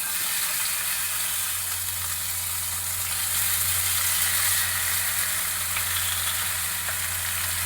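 Mashed beetroot, carrot and potato frying with cumin in a pan, giving a steady close hiss and sizzle over a low constant hum, with no talking.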